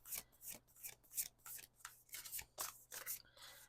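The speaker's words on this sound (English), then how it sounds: "I'm just going to give these a quick shuffle." Tarot cards are shuffled by hand in quick, soft rhythmic bursts of riffling and rubbing, close but quiet, with no speech.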